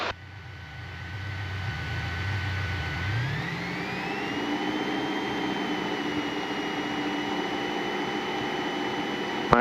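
A light aircraft engine runs up to 1800 RPM, a steady loud droning hum whose pitch rises smoothly a few seconds in and then holds level and close for the rest of the clip.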